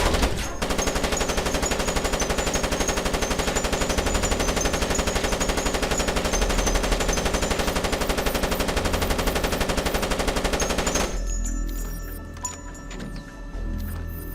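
Automatic turrets in Splinter Cell fire machine guns in a long, loud, unbroken rapid burst lasting about eleven seconds, then cut off abruptly, leaving quieter mechanical hum and faint clicks.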